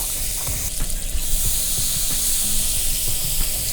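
Seasoned fish sizzles steadily in a pan over a camp fire, a constant bright hiss with faint crackles and pops, close and with no talk.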